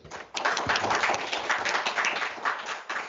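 An audience at a university welcome event claps steadily for about three seconds, a dense patter of many hands in a room, close and moderately loud with no talking over it.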